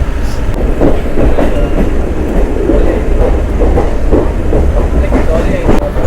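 A Diva–Roha MEMU train runs through heavy rain, with steady loud rumbling and rhythmic clickety-clack of wheels over rail joints continuing throughout, and faint voices mixed into the noise.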